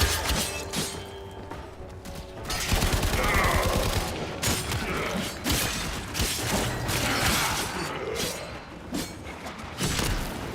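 Gunfire in the Warframe video game, dense and continuous, with repeated thumps, crashes and mechanical clanks layered throughout, loud and busy from start to finish.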